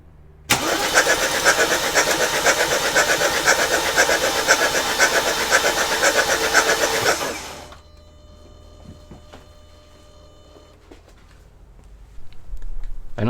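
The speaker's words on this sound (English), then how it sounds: "I reconnect the battery and crank the engine in order to build fuel pressure." BMW N43 engine cranking after its injectors were replaced: a loud, steady starter-driven churn for about seven seconds, then it cuts off to quiet with faint clicks and ticks before a brief noise returns at the end.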